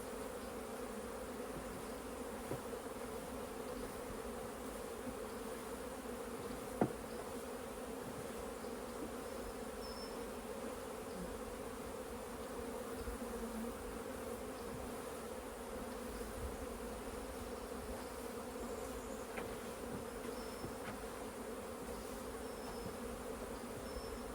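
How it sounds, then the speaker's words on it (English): A steady, dense drone of many honeybees buzzing around and clinging to the outside of their hives, continuous and evenly loud throughout, with a faint tick or two over the hum. "it's normal to see the bees clinging to the outside of the hives right now"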